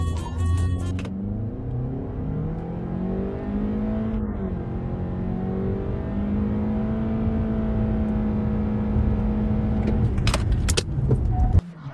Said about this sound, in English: let's do a straight line test and embarrass the ES200 a bit.